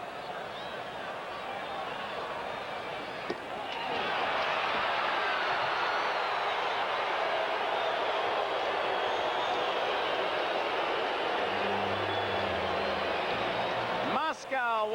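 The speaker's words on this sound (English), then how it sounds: "Crowd uneasy. You'll hear the reaction." A large baseball stadium crowd at a Dodgers–Reds game in Cincinnati rumbles with a broad, sustained roar that swells after a few seconds and holds loud throughout, with a distant public-address or organ tone near the end.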